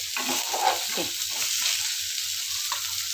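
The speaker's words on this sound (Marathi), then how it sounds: "मी असे पॅनमध्ये सगळे मासे काढून घेत आहे तव्यामधले" Fried fish is lifted out of a hot frying pan while oil keeps sizzling in a constant hiss, with soft scraping and clinking of the utensil underneath.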